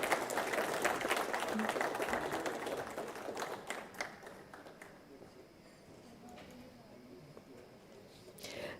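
A conference audience applauds, dense clapping that is loudest at first and then thins and fades to scattered claps, with a voice speaking over it.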